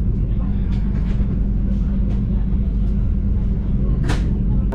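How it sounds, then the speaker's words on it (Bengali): Public address announcement aboard a passenger train in Indonesia, a voice over the loudspeaker heard above a steady, loud low rumble of the moving carriage. "অ্যানাউন্সমেন্ট হচ্ছে যে আমাদের ট্রেনে ভ্রমণ করার জন্য আপনাদের ধন্যবাদ"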